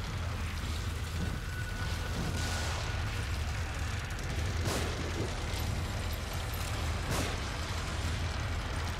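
Pistol shots in The Evil Within ring out as a few heavy, booming bursts in a dense, loud game mix with constant low rumble and no clear voice.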